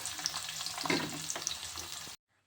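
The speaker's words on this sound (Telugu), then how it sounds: "ఇప్పుడు ఆనియన్స్ వేసుకోవాలి." Onions fry in oil with seasoning seeds, a close crackling sizzle with a few stirs for about two seconds before cutting to silence.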